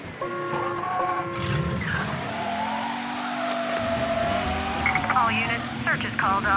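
A car driving in the Mafia 3 video game: an engine hums and shifts pitch as it pulls away, with a brief tire squeal and game sound effects, partly under voices.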